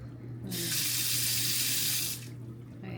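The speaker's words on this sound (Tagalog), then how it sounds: "Ngayon, mabilis na magpuno ng tubig." Water from a filter faucet pours into a container in a strong, steady rush lasting under two seconds, then cuts off abruptly, close by against a low background hum.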